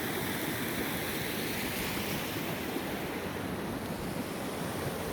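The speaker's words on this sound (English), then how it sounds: "So this is Crescent Falls." Rushing water of Crescent Falls, a mountain waterfall near a campsite, roars as a steady, broadband wash throughout, dense and unbroken with a faint breezy edge, no voices present.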